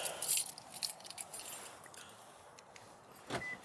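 A ring of keys jingles sharply near the start, then rattles in softer bursts through the rest, close to the microphone with no voices.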